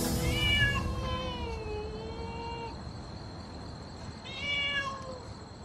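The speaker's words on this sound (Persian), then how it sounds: "از تو صدای گربه میاد" A cat meows indoors, two drawn-out, tonal meows separated by a pause, fairly close and clear over faint room noise, with no one talking.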